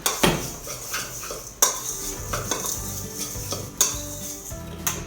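Dill cure mixture for gravlax stirred in a bowl, repeated scraping and clinking strokes of a utensil against the dish in an uneven rhythm, close and clear, with no talk.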